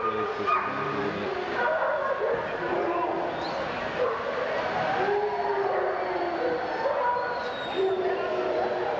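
Many dogs at an Alaskan Malamute club show bark, yip and whimper continuously in the background, a busy, fairly loud chorus with people talking nearby.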